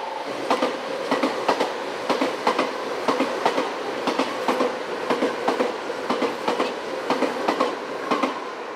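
A Nankai Koya Line train passes through Nakamozu station during the weekday morning rush, with a steady rhythmic clickety-clack of wheels over rail joints and a continuous rolling rumble, fairly close and loud.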